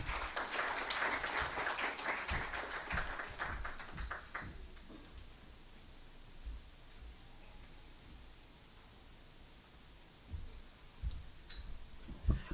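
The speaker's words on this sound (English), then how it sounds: "A round of applause for Eve, please." Audience applause at an executive round-table dialogue: dense clapping fills the first few seconds, then thins to scattered quiet claps and room noise before a few louder claps return at the end.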